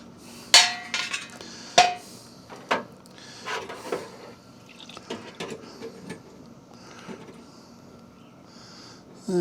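A lid is popped off an ultrasonic cleaner and a carburetor from a Craftsman engine is lifted out, producing a few sharp metallic clicks and clanks followed by lighter scattered taps and rattles nearby.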